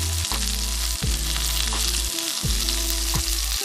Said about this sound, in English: once the oil is hot, pan-sear the salmon, making sure to sear the meat side of the salmon first